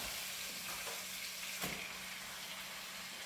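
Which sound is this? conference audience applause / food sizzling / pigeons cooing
food sizzling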